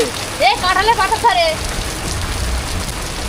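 Hail and heavy rain beat down steadily in a hailstorm that damaged crops, a dense, close pattering with a voice briefly speaking over it near the start.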